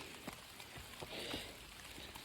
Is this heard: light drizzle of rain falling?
yes